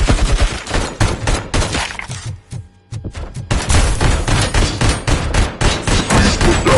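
ED-209 enforcement robot opening fire in Robocop: Rogue City, loud sustained bursts of heavy automatic gunfire, a short pause near the middle, then continuous hammering shots to the end, very close and dominant.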